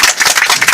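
Loud, dense applause from a seminar audience in Israel applauding a rabbi, a continuous close wash of many hands clapping at once.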